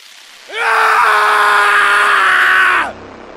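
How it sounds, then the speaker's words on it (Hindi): In a cartoon, someone inside a house lets out a single loud, sustained scream that holds steady for over two seconds before cutting off abruptly. "घर के अंदर से किसी की चिल्लाने की आवाज आती है"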